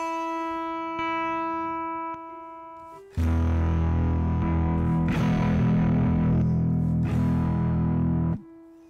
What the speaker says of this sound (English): as I cycle through the type, you'll see it switches to distortion and fuzz.